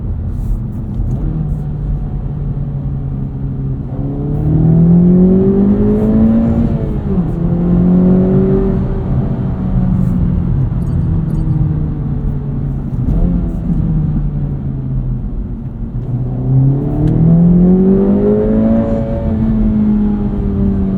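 A 2024 Acura Integra Type S engine drones steadily from inside the cabin while driving in comfort mode, its pitch rising and falling in several clear rev sweeps as the car accelerates and shifts, with no talking.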